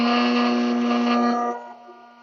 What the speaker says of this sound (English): Turn the heat gun on again.